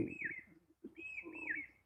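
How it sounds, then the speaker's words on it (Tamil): Sparrows sing in short, bright whistled phrases, two bursts separated by a brief gap, fairly close against a quiet background. "குருவிகள் அழகாக பாடும் சத்தம்"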